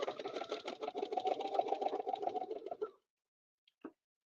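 A sewing machine stitches part of a quilting template in one steady close run of about three seconds, then stops, followed by a couple of faint clicks.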